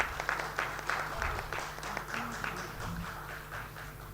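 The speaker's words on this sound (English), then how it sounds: "A big round of applause" Scattered clapping from an audience at a regional workshop on biomass co-firing in thermal power plants, faint and uneven with distinct individual claps and a low hum beneath.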